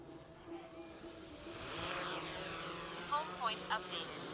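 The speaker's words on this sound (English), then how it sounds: "So there's the drone in the air." A DJI Air 3S drone lifts off at a hillside fort, its rising propeller whine building steadily and sweeping upward in pitch, faint and distant beneath a speaking voice.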